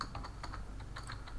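Close, quiet clicks come from a computer keyboard as the backspace key is tapped in a short quick run, with no talking over them.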